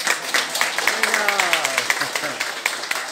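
Rhythmic clapping from a gathered crowd at a community association election event in Itapetim, Pernambuco, applauding union members, with a voice speaking over the applause.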